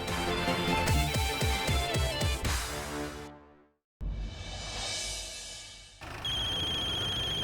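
A phone's melodic electronic ringtone for an incoming call plays loudly in a Hindi TV drama, with quick repeated notes, a brief gap of silence, then the tune resuming.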